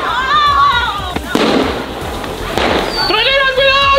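Firecrackers go off during a street firecracker battle between neighbors, with a couple of sharp, loud bangs cutting through excited shouting and yelling from people nearby.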